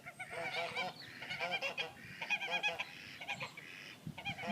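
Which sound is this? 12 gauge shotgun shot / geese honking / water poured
geese honking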